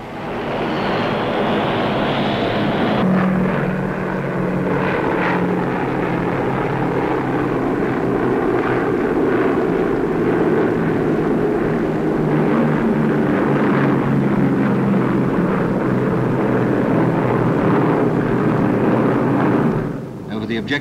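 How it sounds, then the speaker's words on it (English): A wartime C-47 transport aircraft tows two gliders in flight in 1944. Its propeller engines make a loud, steady drone that runs unbroken for about twenty seconds. "G-47 transports towing two gliders demonstrate how a single aircraft can hurl three times as many fighting"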